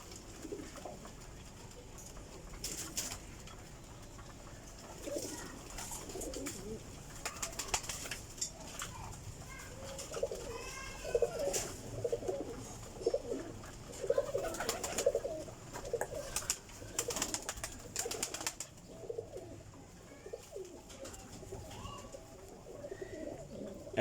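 Female Kasuri pigeon cooing in a loft, soft repeated low coos with some wing flapping and rustling, fairly faint with no voices over it.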